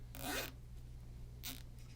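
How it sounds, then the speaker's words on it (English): A black plastic zip tie is ratcheted tight by hand while crafting farmhouse pizza board decor: two close, crisp zipping rasps, the first longer, the second short, over a low steady hum with no talking. "I'm going to pull that zip tie tight."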